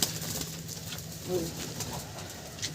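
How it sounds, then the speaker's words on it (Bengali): Madrasi pigeons in a cage giving soft low coos, faint and close amid light fluttering, with a person talking nearby. "এই খাঁচার মধ্যে অনেক পায়রা আছে"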